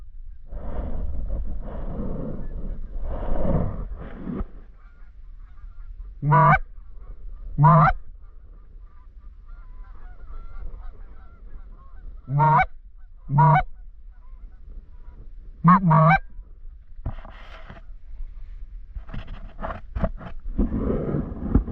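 Around forty geese honk in a flock over big open water during a Missouri goose hunt, the calls coming in loud bursts and ragged clusters with gaps between them, some far off and some nearer.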